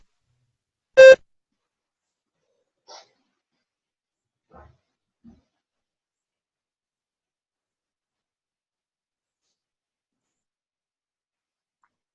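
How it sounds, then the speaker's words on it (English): A single short electronic test-prompt beep sounds once, clear and alone, followed by a few faint ticks and long silence. "Begin to prepare your response after the beep."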